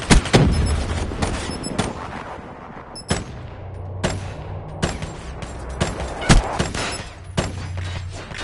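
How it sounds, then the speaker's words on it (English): Gunfire and a grenade blast in the shooter game Call of Duty: Black Ops 3: loud, sharp reports and bursts of rapid fire erupt repeatedly, with booming detonations and rumbling echoes between them. "Grenade!"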